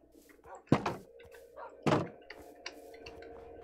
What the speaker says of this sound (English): Yeah, it's a door.